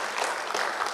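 Brief burst of audience applause for the Cuban ambassador, Guillermo Vasquez Moreno, at a Che Guevara commemoration event, a full, even wash of many clapping hands.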